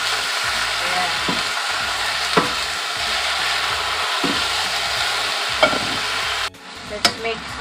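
Lettuce stir-frying in a hot pan in a Filipino home kitchen, a loud continuous sizzle broken by occasional scrapes and knocks of a spatula tossing the leaves, with a brief word spoken near the end.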